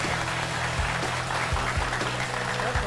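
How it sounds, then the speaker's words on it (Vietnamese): Family members clap loudly and together at a Vietnamese dating show, a dense, steady round of applause that goes on without a break. "Thấy gia đình vỗ tay lớn chưa?"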